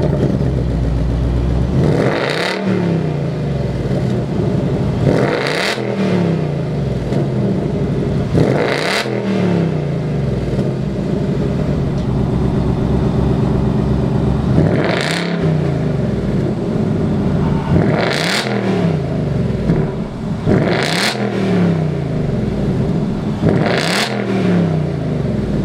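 Two 2019 Ford Mustang GTs, one with the Performance Pack Level 1, are started and revved repeatedly, with sharp V8 blips rising and falling at intervals over a steady rumbling idle, loud and close.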